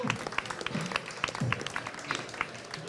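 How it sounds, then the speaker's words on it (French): Audience at an evening gala for farmers clapping together, a fairly faint, steady patter of many hands heard from a distance inside a hall. "On vous applaudit."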